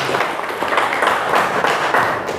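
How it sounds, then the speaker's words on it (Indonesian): Classroom applause for a student named Dini after a physics lesson on projectile motion: a dense, steady patter of many hands clapping together, fairly loud and continuous with no talking over it. "beri tepuk tangan Dini"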